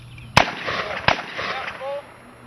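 Semi-automatic shots from an AK rifle on a shooting drill, two sharp close reports about a second apart with ringing tails, and a brief voice near the end.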